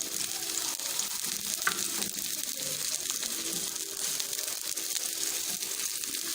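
Chopped onions frying in hot desi ghee for a dal tadka, giving a steady, dense sizzle that holds evenly throughout at close range, with no talk over it.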